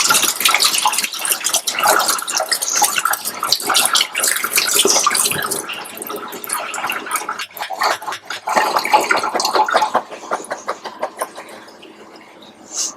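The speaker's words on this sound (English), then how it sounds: "And we'll drain the black beans to get that canning liquid off of them. And we'll rinse them off." Running water splashes steadily into a sink as canned black beans are drained and rinsed in a kitchen, a continuous loud spatter that thins out toward the end.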